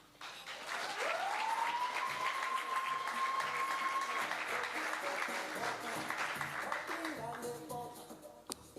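Applause and clapping rise from the crowd at a university sport gala, sustained and fairly loud, with a long held tone and voices mixed in before the sound thins toward the end.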